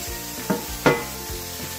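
Meat browns in a pan for adobo with string beans, a steady close sizzle broken by a couple of brief knocks and scrapes of stirring, no speech.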